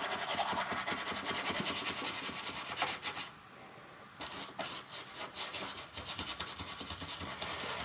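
A brush scrubs paint onto a landscape painting with rapid, rough scratchy strokes, close and continuous, pausing briefly midway before resuming.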